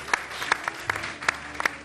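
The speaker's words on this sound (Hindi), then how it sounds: "जोरदार ताली जी" A studio audience at a televised Ramadan iftar quiz show claps in short, separate bursts spread over about two seconds, sounding like a handful of hands rather than a sustained ovation.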